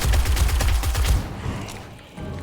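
Rapid automatic gunfire in the zombie survival game 7 Days to Die, a dense burst of about a dozen fast shots for over a second, loud and close, then a lingering noisy tail.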